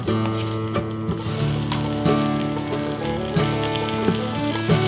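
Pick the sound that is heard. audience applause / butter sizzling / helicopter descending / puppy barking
butter sizzling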